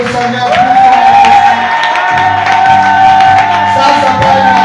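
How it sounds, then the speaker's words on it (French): A church congregation cheers and shouts in loud acclamation of the Lord, a dense, sustained roar of voices with a steady held tone running through it, close and continuous for the whole stretch. "On peut acclamer le Seigneur plus fort."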